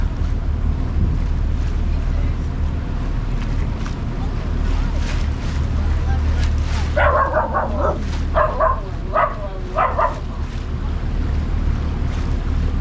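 A dog barks in a handful of short bursts on a morning beach by the water in Pentwater, Michigan, heard at a moderate distance over steady wind, surf and a low boat engine rumble.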